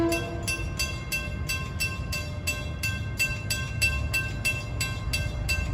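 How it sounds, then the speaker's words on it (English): Commuter train on the Port Jefferson Branch pulling into Huntington station on track 1, a steady rolling rumble with a rhythmic, evenly spaced clacking of wheels over rail joints and a sustained high tonal ring running throughout. "train 1726 from New York to Huntington. He's arriving into Huntington on track 1"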